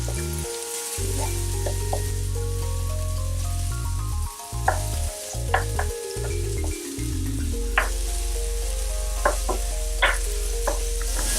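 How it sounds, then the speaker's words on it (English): Onions frying in a pan for a tilapia stew, a steady close sizzle that runs throughout, with light stirring clatters and utensil taps breaking through here and there. "as the onions are frying"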